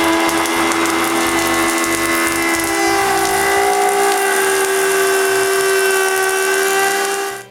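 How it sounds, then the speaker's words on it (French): Wood router with a copying bit shapes wooden bench legs, a loud steady high whine that runs on evenly for several seconds before cutting off abruptly. "je les passe à toupie avec une mèche à copier"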